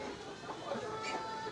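Backyard chickens cluck softly and continuously at a distance, a faint, brief murmur of poultry sounds with no other clear noises.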